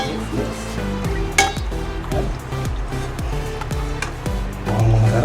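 Sugar stirred into hamonado in a pan, with repeated scraping strokes and soft clinks in an even rhythm over a low sizzle, close and fairly loud.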